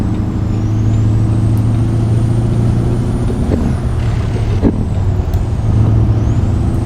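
A Peterbilt 389 truck in American Truck Simulator runs with a loud, steady low diesel drone and faint mechanical clicks and hisses over several seconds, with no one speaking.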